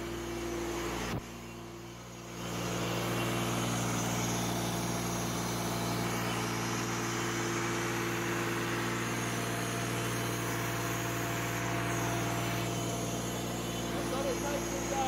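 A DIY vapour blaster's air compressor engine runs steadily with a constant low humming drone and harmonic tones; after a short dip near the start it settles into an even, continuous idle.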